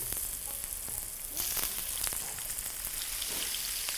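Oil heating in a pan before frying surmai fish, a quiet, steady background sizzle with a few light clicks and a brief swell in the middle, no speech.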